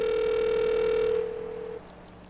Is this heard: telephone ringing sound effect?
yes